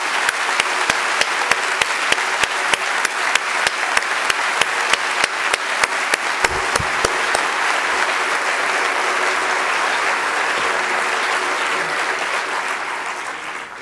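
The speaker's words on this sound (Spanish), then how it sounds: "Así que un gran aplauso." A large audience claps steadily in a hall at a formal human rights report ceremony. The dense, continuous applause holds for nearly fourteen seconds with a few sharper claps standing out, then eases slightly toward the end.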